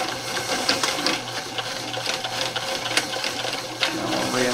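A sewing machine runs steadily while stitching camouflage fabric, a continuous close mechanical hum with small irregular clicks and bumps.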